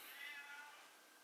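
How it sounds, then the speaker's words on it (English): A cat meows loudly indoors, a single drawn-out, high, wailing cry that wavers and slowly trails off, heard alone without talk. "My cat's like screaming."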